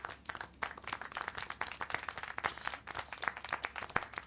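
Applause and clapping in the video game Syberia: The World Before, a quiet, steady patter of many hands clapping throughout, fairly distant and even.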